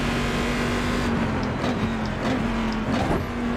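A GT1-class race car engine in iRacing drones steadily at high revs, with brief dips and surges as gears change, loud and continuous throughout.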